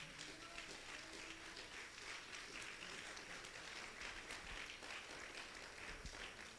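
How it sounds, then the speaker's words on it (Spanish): A church congregation at a Sunday service applauds steadily, the clapping sounding distant and fairly quiet with no voices over it. "Si es aplauso para el Señor, déselo fuerte."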